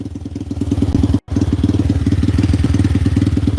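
A Venom motorcycle fitted with a swapped Zongshen 250cc engine idles with a loud, close, steady pulsing thump, cuts out briefly, then restarts and settles back into the same even idle.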